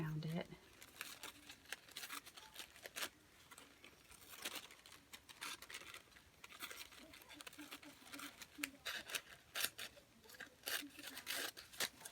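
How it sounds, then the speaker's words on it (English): Scissors cutting paper around a glued-on cluster of craft embellishments, a quiet run of snips and crinkles mixed with paper handling, close and steady. "So that's glued on, and I'm just going to kind of cut around it."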